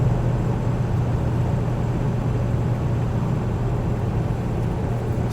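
A 2000 Ford Excursion with a 7.3L Powerstroke diesel cruising at 60 mph and about 1,800 RPM, heard from inside as a steady low engine drone blended with road and wind noise, continuous and unchanging, with no talking.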